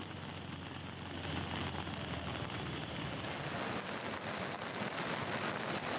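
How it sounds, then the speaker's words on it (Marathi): Heavy monsoon rain pours down steadily in Raigad district, a dense, unbroken hiss of downpour that stays loud and even throughout, with no voices over it. "अनेक भागांमध्ये आता मुसळधार पाऊस आहे तो कोसळतोय"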